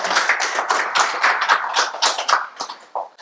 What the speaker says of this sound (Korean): 박수 한 번 더 보내주시고요.